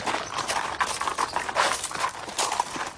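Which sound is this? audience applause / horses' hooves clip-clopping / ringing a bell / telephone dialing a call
horses' hooves clip-clopping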